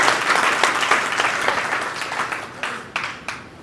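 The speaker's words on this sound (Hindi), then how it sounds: "तो एक बार जोरदार तालियां हो जाए" Loud crowd applause at a public gathering, dense clapping that gradually thins out, ending with a few scattered individual claps.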